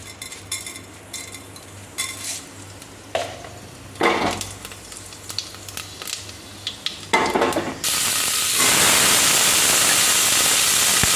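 A metal spatula scrapes and taps irregularly against a pan while cooking a children's breakfast tiffin, with scattered clinks and a loud steady hiss of frying or running steam taking over near the end.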